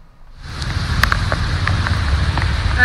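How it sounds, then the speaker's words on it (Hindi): Heavy, steady rain falls on a street in Bharatpur, Rajasthan, a dense close hiss of drops on hard surfaces that swells in after a quiet start and keeps going without a break. No one speaks. "अभी भी लगातार बारिश का दौर जारी है।"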